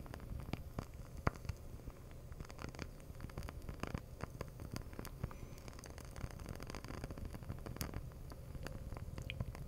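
A wooden wick candle crackles faintly and irregularly up close, with scattered small pops and ticks over a soft, continuous background.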